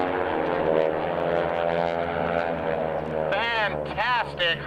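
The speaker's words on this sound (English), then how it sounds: "They will roll to the knife edge position and pull right there through each other's wake to create the second heart of the heartbreak sequence" Red Baron Squadron propeller planes fly the heartbreak sequence at an airshow, their engines droning in a loud, sustained roar with an announcer's amplified voice talking over them.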